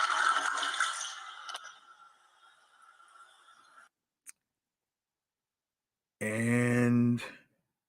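A toilet flush sound effect rushes loudly, then fades away over about four seconds, followed after a pause by a short burst of voice.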